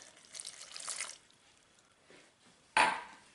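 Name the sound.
pouring half a cup of warm water onto yeast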